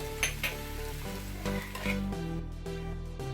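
Soaked flattened rice (chuda) sizzles and crackles as it is tossed into a hot pan and stirred, with soft scraping strokes over steady close frying.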